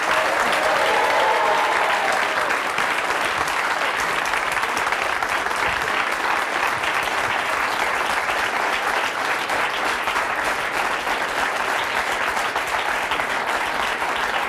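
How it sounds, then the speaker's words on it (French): A television studio audience of about eighty guests applauds warmly for a guest named Céline, dense steady clapping that holds loud and even throughout with no voices on top. "on peut l'applaudir très chaleureusement"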